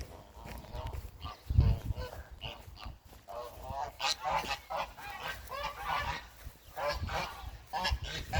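Geese honk repeatedly in a noisy farmyard in Mengen, Turkey, several birds calling over one another at moderate distance, with faint voices in the background.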